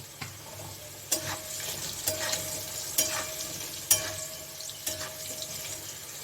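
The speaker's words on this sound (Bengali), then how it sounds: "আমার আলুগুলো ভাজা হয়ে গেছে" Potatoes coated with turmeric frying in a pan, a continuous sizzle broken by about six sharp spatula scrapes and taps at a steady stirring rhythm, close by with no talking.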